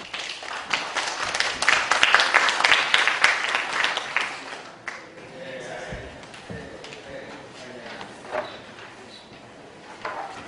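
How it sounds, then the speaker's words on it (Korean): An audience at a symposium held in the National Assembly applauds to welcome a speaker, the dense clapping lasting about five seconds before it dies away, followed by quieter room noise, shuffling and a voice. "따뜻한 박수로 맞이해 주시기 바랍니다."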